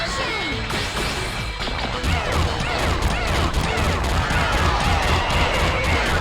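The Scarf Bomb attack in the PS2 game Stretch Panic sets off a loud, chaotic barrage of crashing and smashing impacts. Rapid repeated hits continue for several seconds over game music and effects.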